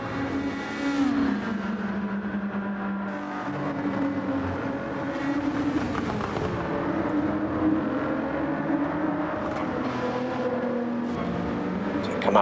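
Gran Turismo 7 race cars at Le Mans, a pack of engines droning and revving continuously with shifting pitch as cars jostle close together, loud and sustained with no talk.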